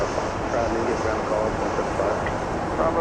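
A Boeing 737-700 airliner on the ground at Dallas Love Field gives off a steady, moderately loud engine rumble and whine, with a faint radio voice mixed into the background.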